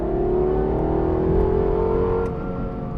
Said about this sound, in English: I love the sound of the LFA.